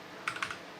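Soft clicks of typing on a computer keyboard while configuring a router, four or five quick, light keystrokes close by and faint, with no talking.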